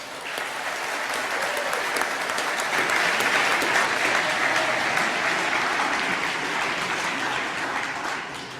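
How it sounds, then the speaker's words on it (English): A conference audience in Doncaster applauding speaker Jane Collins, a dense, steady wash of many hands clapping that swells and holds throughout, then tapers slightly at the end. "I'd like you to give her an enormous round of applause"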